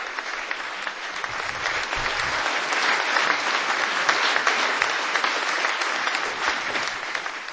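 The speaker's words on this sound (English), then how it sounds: "Witnesses say he began the address amid some booing, but finished to cheers and applause." Gordon Brown's address at a closed-door meeting ends in cheers and applause. Dense, sustained clapping fills the room for several seconds at an even, full level, with no speech over it.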